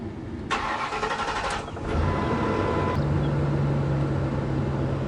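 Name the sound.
Ford E350 box truck engine starting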